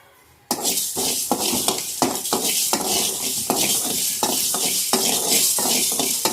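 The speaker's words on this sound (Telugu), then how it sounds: "కొద్దిగా మెంతులు, కొద్దిగా ఆవాలు, నూనె లేకుండా వేయించుకోవాలండి." Fenugreek and mustard seeds dry roast in a pan without oil, giving steady close scraping and stirring strokes with a light crackle, broken by short rhythmic pauses after a quiet start.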